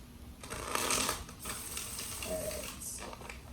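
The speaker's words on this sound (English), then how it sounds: "So let's go ahead and pull some cards for the outcome." Tarot cards being shuffled by hand, a run of soft papery riffles and flutters with short pauses between bursts, close and fairly quiet, no voices.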